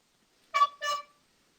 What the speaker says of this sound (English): 1 honk for yes, 2 for no.